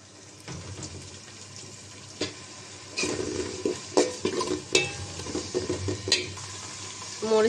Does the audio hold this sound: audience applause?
no